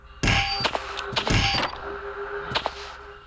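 A character hitting a glass window in the video game Angry Neighbor: several sharp, ringing clangs in quick succession, loud and close, followed by fainter knocks and a lingering tone.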